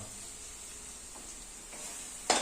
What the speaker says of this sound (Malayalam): ഇത് നല്ലോണം മൂക്കണ വരെ ഇളക്കിക്കൊണ്ടിരിക്കണം മുളക് പൊടി പച്ചമണം പോകാനായിട്ട്